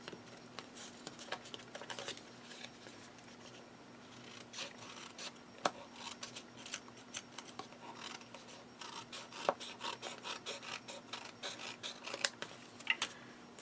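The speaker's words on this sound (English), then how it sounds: "And I'm just cutting off the excess." Scissors trim excess paper from die-cut tags, a quiet run of scattered snips and rustling paper rubs, close up and faint against a low steady hum.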